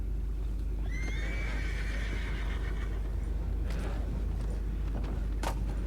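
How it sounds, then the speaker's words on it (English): Horses neighing with hooves clip-clopping in the Red Dead Redemption 2 video game, one clear whinny early on over a steady low rumble, followed by a few sharp knocks and clops, with no speech. "You mind the horses?"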